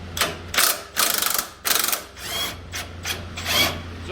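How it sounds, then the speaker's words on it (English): Ratchet wrench unbolting the factory track bar on a Jeep JK, 21 mm bolts: several loud, close bursts of rapid clicking ratchet strokes in quick succession, separated by short pauses, with no talk. "It's just unbolting driver's side, passenger side, and we should just be able to pull that out."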